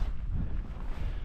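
Cold wind on a dreary day rumbles steadily across the microphone, a low, continuous, moderately loud buffeting with no talk.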